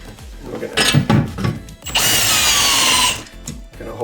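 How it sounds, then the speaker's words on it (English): A power drill drives a bolt into a full-motion TV wall mount, sounding as a short whirring burst and then a sustained high, strained whine for about a second, close up with handling noise around it. "gonna hold that there while I drill the other one in."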